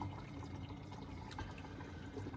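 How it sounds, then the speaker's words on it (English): Aquarium sump water runs steadily through the overflow and back up the return pump line under a Red Sea Reefer G3 250 reef tank, a constant close-by rush of flowing, splashing water without pause. "We've got a nice balance set up between water coming down there and the water that's going back up the return pump line here in the far corner."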